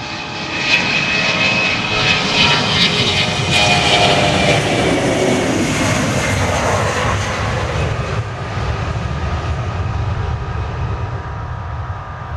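A jet airliner takes off at Dallas Love Field, its engines giving a loud, sustained broadband roar that fills the whole stretch, with a whining tone early on that slowly fades as the plane climbs away.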